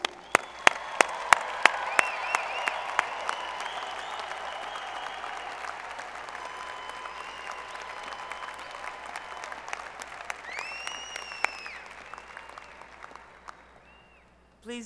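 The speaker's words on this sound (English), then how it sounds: "Ladies and gentlemen, one more round of applause, please." A commencement crowd gives graduates another round of applause in a large hall, a long even roar of clapping with a few sharper nearby claps, fading out toward the end while faint voices rise over it.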